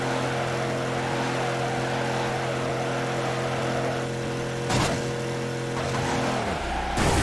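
Car drifting at high speed in fifth gear in Midnight Club 3: DUB Edition Remix, a steady sustained engine drone with layered harmonic whine, then a brief scrape and a sudden drop in tone near the end.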